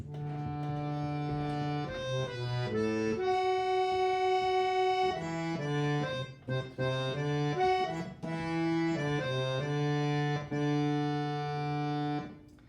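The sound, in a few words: harmonium playing plain bhajan melody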